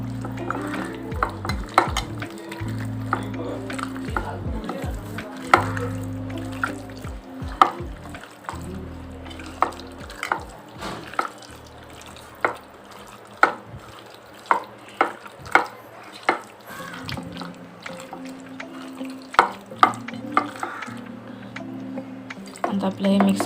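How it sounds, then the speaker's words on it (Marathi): A spoon works egg into masala-coated chicken in a bowl for chicken fry, with repeated sticky scrapes and taps against the bowl spread through the clip under a voice. "आता आपल्याला चिकनमध्ये एक अंडं टाकायचं आहे. अंडं टाकून मिक्स करून घेऊया."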